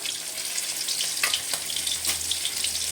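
Hilsa fish pieces fry in hot oil for a village-style mustard hilsa dish, giving a loud, continuous close-up sizzle with small crackles throughout before cutting off abruptly.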